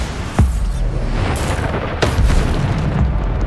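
Bombarda spell explosions in Hogwarts Legacy burst out as sharp booms, two distinct blasts about a second and a half apart amid ongoing battle noise.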